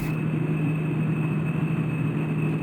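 Steady car engine hum in a Roblox game, a constant low drone with a faint high whine, continuous and unchanging throughout.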